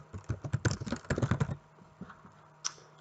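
Someone types on a computer keyboard, with quick clusters of soft, close key clicks in two bursts followed by a few isolated taps.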